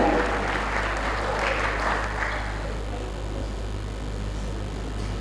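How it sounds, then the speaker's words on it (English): Applause from a TEDx audience in Katsina, Nigeria, for a speaker named Muhammad Abdullahi, a dense round of clapping that fills the hall steadily, peaks in the first couple of seconds, then thins slightly while continuing with low hum beneath. "Please, let's give another round of applause for Muhammad Abdullahi"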